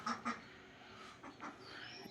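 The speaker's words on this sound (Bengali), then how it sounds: "হাঁসের শব্দ পাচ্ছেন" Ducks on a farm give two quick loud quacks close by at the start, followed by quieter quacks and honking calls a little farther off.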